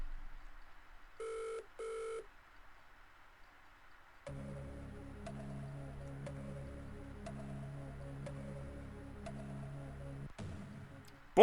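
Two short electronic dialing tones ring out in near silence, then a steady ticking, sustained tone bed follows, as in a Who Wants to Be a Millionaire style phone-a-friend lifeline sequence.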